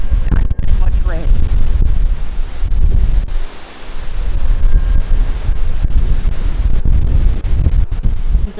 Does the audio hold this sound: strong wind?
yes